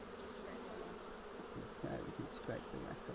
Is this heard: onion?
no